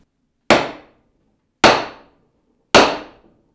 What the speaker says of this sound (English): I really get a good grip and I hit it a couple more times and that'll really draw it in and tighten them up